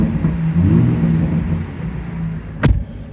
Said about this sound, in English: Give you guys a quick exhaust rev here real quick.